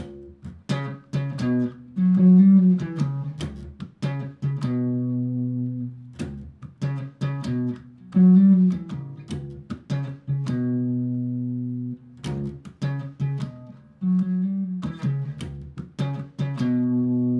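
Slap bass riff with sharp percussive slaps and pops, notes sliding via hammer-ons and pull-offs in a repeating groove, played alone and loud.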